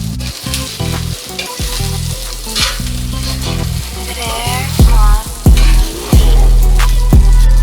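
Chicken wings fry loudly in a hot pan, a constant crackling sizzle broken by repeated scraping and thudding as the wings are tossed and stirred.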